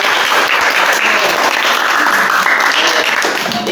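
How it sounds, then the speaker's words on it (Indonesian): A classroom audience gives loud, close applause to a student group that has just presented. The clapping is dense and continuous, holding steady for nearly four seconds with no talking. "Kita tepuk tangan"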